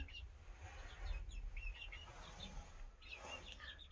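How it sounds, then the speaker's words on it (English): Soft clucks and chirpy calls from chickens over a steady low rumble, with scattered short calls throughout. "a bunch of happy chilling chickens"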